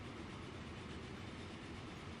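Trains rolling on rails in the Transport Fever game give off a steady, faint, continuous rumble with a soft clatter running beneath it, with no voices.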